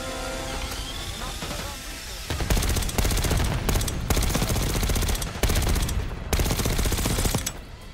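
Rapid automatic gunfire in the video game Call of Duty Black Ops 6, loud sustained bursts with brief pauses following quieter mechanical clicks at the start.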